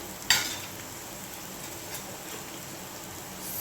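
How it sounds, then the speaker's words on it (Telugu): Brinjal and potatoes frying in oil sizzle steadily while being stirred, with one sharp scrape of the utensil early on and a soft crackling hiss continuing underneath, no voices present. "వంకాయలు వేసుకున్న తర్వాత మంచిగా కలుపుకోవాలి. ఆయిల్ అంటేదాకా వంకాయలకి ఆలుగడ్డలకి."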